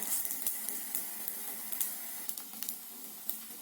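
Msemen-style bourek frying and browning in a pan, giving a faint, steady sizzle with scattered small crackles and pops throughout, no voices.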